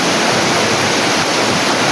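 Clear, cold water runs over mossy rocks in a shallow stream, making a loud, continuous rushing close by with no pauses.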